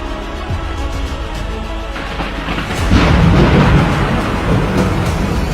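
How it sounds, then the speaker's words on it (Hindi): A thunderstorm with heavy rain after a short lull: a dense, steady roar of downpour with a deep crack of thunder swelling about midway and rolling on, loud and close, with no voices. "आसमान में तेज बिजली कड़की और बारिश जो थोड़ी थमी थी एकाएक फिर झमाझम बरसने लगी।"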